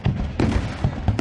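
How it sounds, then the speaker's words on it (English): Fireworks go off on New Year's Eve as a dense roar of overlapping booms and crackles, loud and continuous throughout, with sharper bangs breaking through. "The loud blasts and stunning displays bring joy to midnight revelers"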